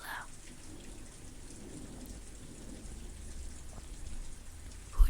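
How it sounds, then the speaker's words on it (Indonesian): Steady rain falls on surfaces with a low rolling thunder rumble underneath, soft and continuous throughout, ending with a brief louder knock. No one speaks. "Hujan gak akan ngeganggu lo."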